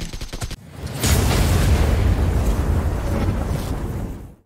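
Explosions in the battle royale game BGMI: a sharp crackle of shots, then a heavy booming blast that rumbles on for several seconds before fading, with no talk.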